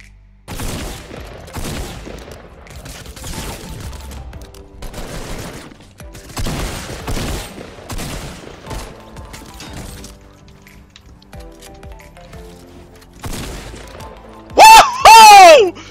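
Rapid gunfire in the video game Fortnite, several clusters of sharp cracking automatic bursts spread across the stretch, loud and close, with a player shouting excitedly over it.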